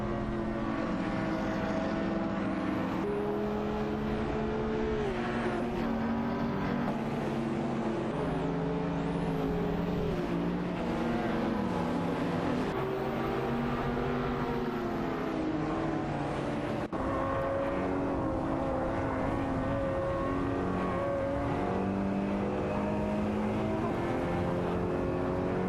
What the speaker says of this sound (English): Bot Krejci in the Ford Focus RS17 is locked in a fierce duel with Bot Captain Canadian in